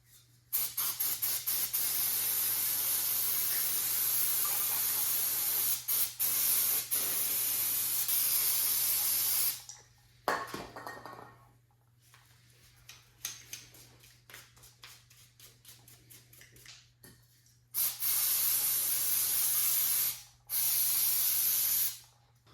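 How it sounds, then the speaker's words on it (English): Starter fluid sprayed from an aerosol can onto the outside of a John Deere Gator carburetor, heard as loud, close hissing bursts of varying length separated by short pauses and quieter handling noises. "I didn't have any carb cleaner, so I just used starter fluid just to get the exterior clean."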